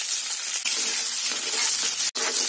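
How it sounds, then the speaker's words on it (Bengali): Chopped onion is dropped into a hot pan and sizzles. A bright, steady frying hiss is close and fairly loud, with a brief sharp click near the end and no talking. "এখন পেঁয়াজ কুচিটা দিয়ে দেবো।"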